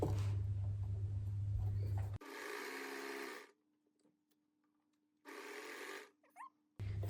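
An overlocker stitches a sleeve seam on a one-shoulder top in two bursts of steady, whirring machine noise. Each run starts and stops abruptly, with quiet gaps and a faint hum between them.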